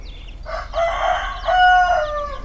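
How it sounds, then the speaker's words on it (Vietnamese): Chickens on a rural Vietnamese farm where young hens forage and lay: a rooster gives two close, loud, harmonic crows, with faint farmyard noise between them. "chỗ con gà đang ăn nè"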